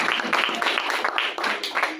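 A church congregation claps with both hands during worship, a loose, uneven patter of applause with some voices mixed in.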